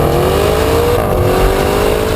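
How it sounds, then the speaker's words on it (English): A Maserati Levante GTS SUV's V8 engine revs hard under acceleration, a loud, continuous rising drone heard from inside the car, with no talking over it. "But really, it's all about the engine noise."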